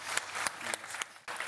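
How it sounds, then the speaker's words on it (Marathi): Audience applause on the set of the Marathi comedy show Chala Hawa Yeu Dya, a steady wash of clapping with a few sharper claps standing out, brief and moderately loud with no talk over it. "जोरदार टाळ्या मॅम साठी"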